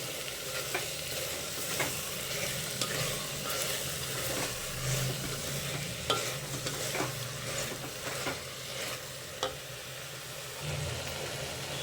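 Bottle gourd gravy base fries and is stirred in a pan, a steady close sizzle broken by repeated scraping and clinking of the spoon against the pan.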